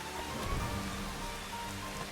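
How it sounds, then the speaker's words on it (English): Steady rain falls in the Final Fantasy XV Platinum Demo video game, a continuous broadband hiss with a low rumbling bed and no talk over it. "Raindrops."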